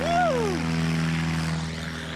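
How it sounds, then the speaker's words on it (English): A large propeller airplane taking off in a short-takeoff competition, its engine drone rising in pitch and then settling into a steady, loud roar close by, with no voices over it. "That's a substantially large airplane for how short he's taking off right now."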